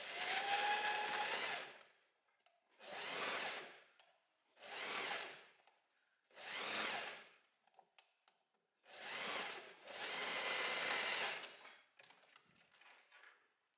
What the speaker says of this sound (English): we're going to sew the seam allowance, this part here, onto the inside of the dress,